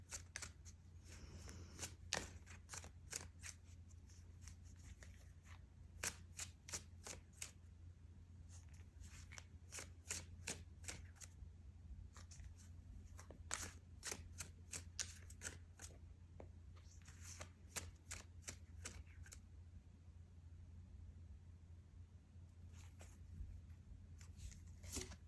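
Tarot cards being shuffled, a long run of crisp riffling and snapping card bursts in quick clusters with short pauses, close and fairly quiet, with no talking.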